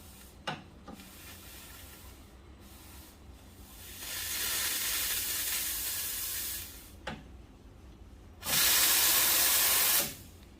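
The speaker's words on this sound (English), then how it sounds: "you can see the steam is very strong" A Nook Mini Duo Boiler espresso machine steam wand hisses in loud bursts, two strong sustained blasts with short quiet gaps and a few clicks between them.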